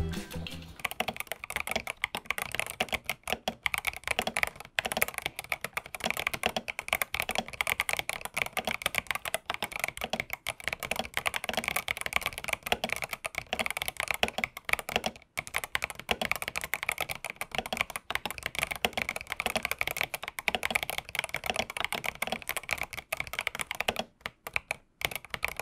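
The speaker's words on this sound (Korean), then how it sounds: "알파열을 교체하고 타이핑을 해볼게요." Steady, fast typing on a retro-styled 8BitDo mechanical keyboard fitted with tactile switches, with dense, continuous close-up key clacks throughout and no speech.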